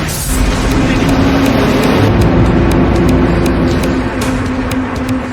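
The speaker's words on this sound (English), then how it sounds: "With the car pottering along nicely" A car potters along steadily in the middle of a Top Gear challenge, its engine hum and road rumble loud and constant the whole way, with a steady low drone throughout and no speech.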